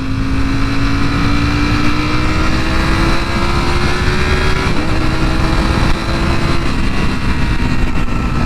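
Ducati motorcycle riding at modest speed, picked up by a mic mounted in a Shoei X14 helmet. The engine drones steadily and loudly with a slowly rising pitch, mixed with constant wind and road rumble and no speech.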